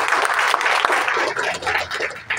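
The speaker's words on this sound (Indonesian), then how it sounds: "Tepuk tangan dong." A room full of people at an Indonesian political party gathering claps loudly for a few seconds, a dense burst of applause that thins slightly toward the end.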